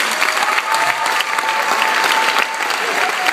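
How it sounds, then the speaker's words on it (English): Loud, dense applause from a school audience at a hypnosis show, steady and sustained throughout with a few cheers mixed in. "You guys give them a big round of applause."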